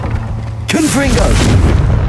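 A Confringo fire spell blasts in Hogwarts Legacy, a sudden loud boom that rolls into a sustained roaring burst, after a voice shouts the spell name and then calls out again over the rumble.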